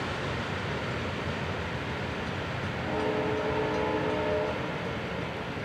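A Florida East Coast Railway freight train rumbles steadily past, its multi-tone horn sounding clearly for about a second and a half midway through over the continuous rolling noise.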